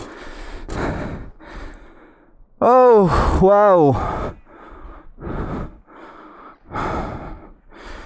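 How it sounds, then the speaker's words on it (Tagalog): A rider pants and breathes heavily, out of breath after a morning motorcycle ride up Cordillera mountain roads, with short breaths between a brief spoken exclamation. "Umaga pa lang, hingal na."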